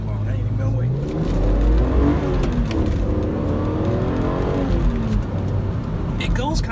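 A BMW Z4M sports car accelerates hard from inside the cabin, its engine note climbing through the revs in a continuous loud drone with a shift near the end, while road and wind noise fill the background.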